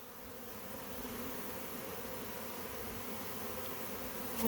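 Steady, dense buzzing rises from a honey bee swarm clustered on a branch and in a hive box, continuous and close with no voices.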